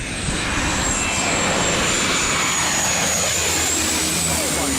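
A jet airliner roars steadily overhead on its landing approach to St. Barthélemy airport, a loud sustained engine drone with a faint high whine running through it.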